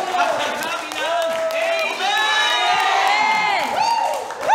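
A church congregation claps and shouts praise together, a dense, loud mass of cheering voices and steady applause running throughout, with rising whoops and cries rolling over a continuous crowd roar.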